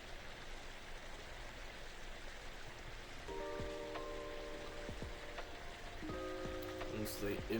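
Steady rain hisses as a continuous wash of noise in a scene, with faint tonal sounds and short music-like tones rising over it toward the end.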